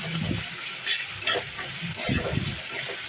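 Ginger and garlic frying lightly in a pan for butter chicken, a soft, steady sizzle with faint stirring scrapes, alone and at close range.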